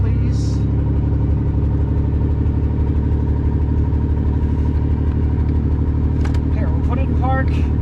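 A Ford Bronco II engine runs steadily with its waterlogged A4LD automatic transmission in gear, a constant low mechanical hum throughout, with brief faint speech-like sounds near the end.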